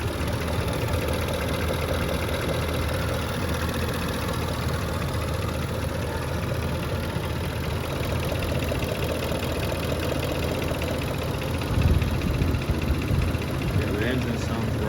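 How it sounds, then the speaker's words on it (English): A Range Rover Sport L320 engine idles after a tune-up with cooling system, fuel injector and spark work, a steady even drone throughout, close by, with a brief knock near the end. "Yeah, the engine sounds right."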